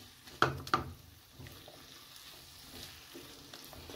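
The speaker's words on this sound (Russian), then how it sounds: "Все хорошо перемешиваю." Pepper and pineapple stir-fry in a pan, with two sharp clacks of a utensil against the pan near the start and then a quiet, steady sizzle with faint scraping.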